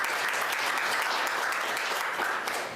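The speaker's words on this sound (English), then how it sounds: "Again, let's give our speakers a round of applause" A conference workshop audience applauds its speakers with dense, even clapping that fills the room from start to finish.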